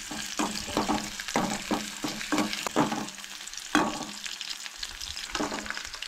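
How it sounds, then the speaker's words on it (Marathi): Ginger and garlic fry in hot oil for Goan-style chickpea chole, a close crackling sizzle broken by rapid rhythmic spoon scrapes and clacks against the pan. "तेज्या उपरांत आले हे नाही बरे परतून घेवंक जाय"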